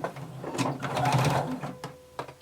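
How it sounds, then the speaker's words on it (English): A sewing machine runs close by in a short burst of rapid mechanical stitching as it sews fabric with a 5/8 inch seam allowance, then slows into a few separate clicks near the end. "starting at the bottom, we're going to sew using 5/8 inch seam allowance"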